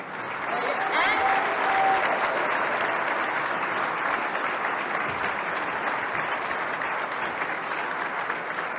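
A crowd at a PAX East 2017 Gwent panel breaks into loud, sustained applause that fills the whole stretch, with a host's voice briefly audible over the clapping.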